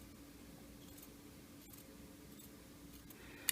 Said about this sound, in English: take your scissors and put them inside the seam allowances and trim that one a little bit more